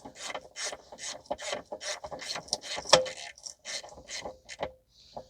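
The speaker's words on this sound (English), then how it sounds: "So now I got the bolt in. I just need to tighten up the bolt." A hand ratchet tightens a bolt on a 2010 Toyota Corolla 1.8 during rear ABS wiring harness work, producing a quick, close series of clicking ratchet strokes in an uneven rhythm, fairly soft overall.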